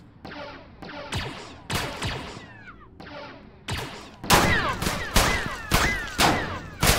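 Blaster-style gunfire in a Star Wars game on Geonosis, sharp separate shots with whining ricochet tails, spaced at first and then coming faster and louder near the end.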